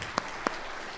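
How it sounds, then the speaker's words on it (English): Applause from a church congregation during a live-streamed service, a quiet, even spread of clapping with two brief sharper claps standing out early on. "Give these girls a hand of applause one more time."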